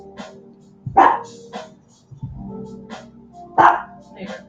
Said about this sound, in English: My dog needs to calm down.